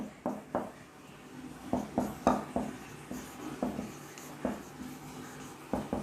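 Chalk tapping and scraping across a classroom blackboard as a teacher writes a physics law, short strokes repeating in an irregular rhythm, close and clear with no talk.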